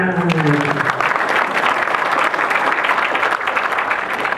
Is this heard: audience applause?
yes